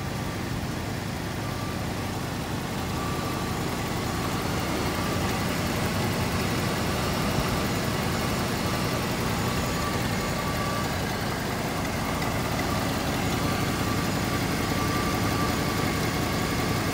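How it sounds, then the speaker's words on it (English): A 1988 Ford Bronco engine idles steadily and evenly for the whole stretch as a loud, continuous, broadband rumble. No start is evident and no one speaks. "I'm gonna go ahead and start her up."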